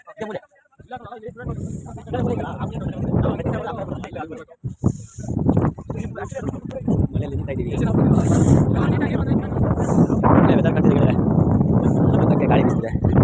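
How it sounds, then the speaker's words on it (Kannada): Strong wind blows across the Bhadra dam backwater, buffeting the microphone in heavy gusts that swell and drop. People talk throughout, over the roar. "ಗಾಳಿ ಬಿಸ್ತಿದೆ."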